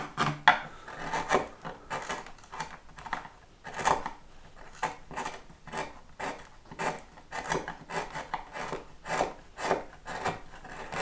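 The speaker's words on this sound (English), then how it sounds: "just trying to very gently tease the waste out without damaging it too much" Waste wood is carved out of an ES 335 guitar body in steady rasping and scraping strokes, repeating rhythmically up close with no talking.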